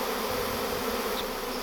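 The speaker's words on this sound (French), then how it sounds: "on voit les abeilles qui descendent" A large honeybee swarm buzzes steadily and densely at close range, a continuous unbroken hum with no voices.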